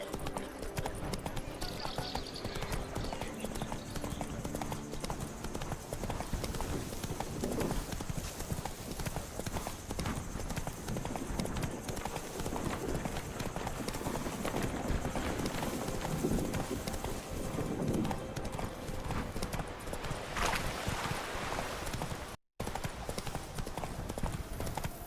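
Roach the horse gallops in The Witcher 3: Wild Hunt DLC, with continuous rhythmic hoofbeats up close, a brief neigh and a short dropout near the end, under background game sound and some voice.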